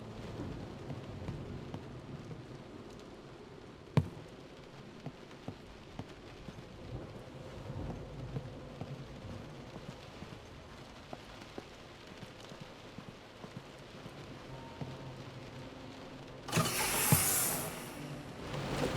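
Video game audio: steady rain hisses throughout with a distant rumble of thunder, a sharp crack early on and a louder rush of rain near the end.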